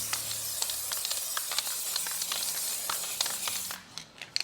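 Primer sprayed onto a VW Passat R36 body as a second coat: a steady, close spray-gun hiss running continuously, with soft pulses, before cutting off near the end.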